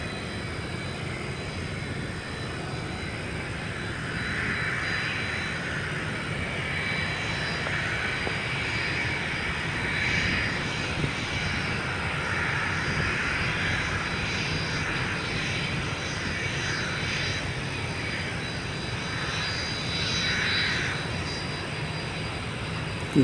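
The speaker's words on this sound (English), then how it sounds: "Delta's home base of Atlanta, coming into your view right now." A Delta airliner on approach to Austin-Bergstrom airport, its engine roar a steady, moderately loud drone that holds throughout with a broad whine on top, heard outdoors with no talking.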